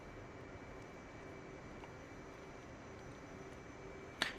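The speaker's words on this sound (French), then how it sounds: "Je vais voir que j'ai un S3 qui va décoller à côté de moi" An S-3 jet in the DCS flight simulator spools up to take off alongside on a carrier deck, a steady, even engine roar throughout with a brief sharp clank near the end.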